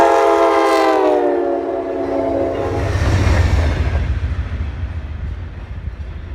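An Amtrak Budd Metroliner cab car, around 50 years in service, sounds its K5LA air horn in a loud multi-tone chord for about two seconds. The rumble and clatter of the passing train then builds and rolls on.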